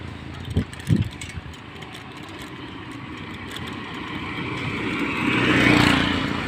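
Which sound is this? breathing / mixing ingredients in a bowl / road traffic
road traffic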